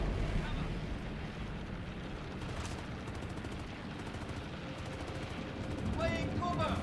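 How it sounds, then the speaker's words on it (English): Suppressing gunfire in the video game Star Citizen crackles as rapid bursts under a dense, rumbling background, fairly faint, with people talking. "Laying cover! Suppressing fire!"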